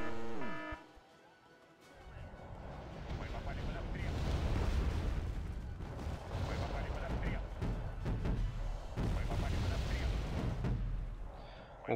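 Artillery fire in the war strategy game Wargame Red Dragon: heavy booming blasts and a long rolling rumble of explosions build and persist, loud and dense, with brief bursts layered through the barrage.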